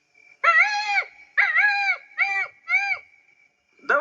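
A voice imitates a peacock call, giving four loud, drawn-out nasal wails in a row with short gaps between them, then starting a fifth, clear and close with no background noise.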